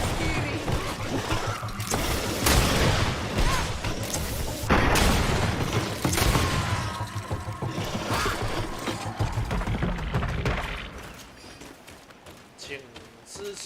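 In the video game GreedFall, a nest is blown apart by a series of booming explosions and bursts, with talking running over the blasts.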